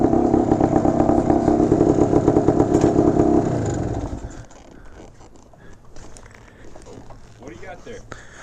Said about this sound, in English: I've got a classic 1970 Yamaha DT250 Enduro